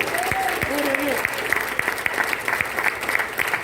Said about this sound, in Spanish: Si va a aplaudir, hágalo a Cristo con gozo.